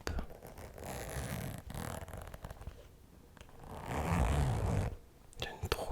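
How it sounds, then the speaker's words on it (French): A silver-gold zipper on a leather toiletry bag is drawn open slowly and very close, giving soft, scratchy rasping strokes in a quiet, intimate setting. "On va commencer avec un bon zip."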